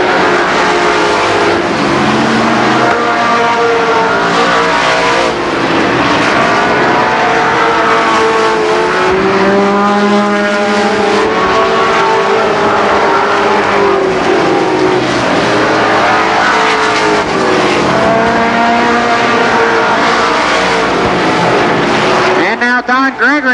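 Race cars lap Columbus Motor Speedway during a Labor Day race, loud continuous engine roar with rising and falling pitch sweeps as the cars pass, while an announcer talks over the noise throughout.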